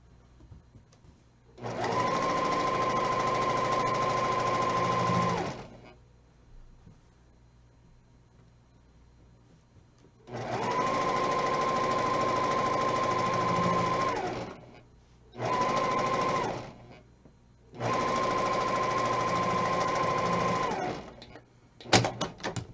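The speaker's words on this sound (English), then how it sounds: "just sew these with a 1/4 inch seam allowance" Sewing machine stitching quilt block seams with a quarter-inch seam allowance, running in four steady whirring bursts of a few seconds each, separated by quiet pauses.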